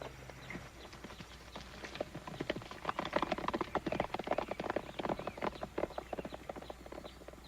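Horses' hooves clip-clop rapidly as riders gallop away on a frontier trail, a busy patter of hoofbeats that rises and stays steady over faint background hum.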